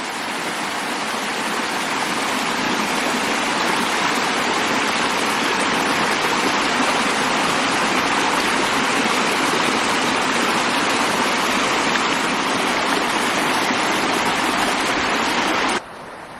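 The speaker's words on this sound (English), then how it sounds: "That's a beautiful creek. This is very clean water." Grizzly Creek runs along a Glenwood Canyon trail in a steady, loud, close rush of flowing water with no letup, ending abruptly after about sixteen seconds.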